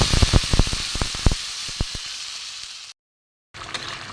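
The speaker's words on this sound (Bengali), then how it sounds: "এটা কষে আমি একটুখানি জল দিয়ে দেবো।" Water poured into spice paste frying in a hot pan for fish curry, a loud steady hiss and sizzle with sharp popping crackles at first, then a brief cut to silence before the sizzle returns.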